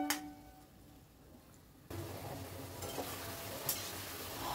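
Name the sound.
vegetables sizzling while being stirred in a pan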